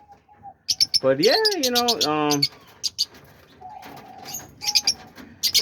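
Young cockatiels, lovebirds and parakeets give a loud burst of squawking, warbling calls lasting over a second, with someone talking casually just before and after and faint chirps scattered in the background.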